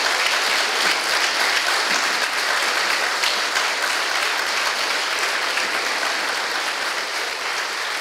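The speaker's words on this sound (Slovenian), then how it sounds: "Lahko jim tudi še enkrat zaploskamo, pa seveda tudi zborovodkinjam." A concert audience applauds a children's choir and its conductors with dense, even clapping, loud and sustained throughout, with no talk over it.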